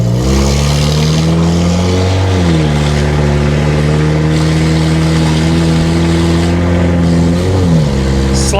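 A 1991 Plymouth Colt Vista with a Mitsubishi 4G63 engine and a slightly slipping transmission drives along, its engine humming loudly from inside the cabin, pitch stepping up and dropping twice as it shifts and cruises.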